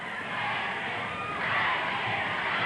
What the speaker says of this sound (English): And you hear the crowd, you know what they want.